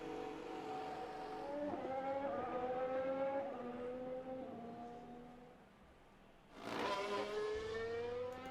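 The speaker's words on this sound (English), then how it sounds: "let's get a car out on the track" An F1 race car in the F1 Manager 2022 video game heads out onto the track. The engine note rises through several upshifts, quiets briefly, then roars back in a sharp acceleration.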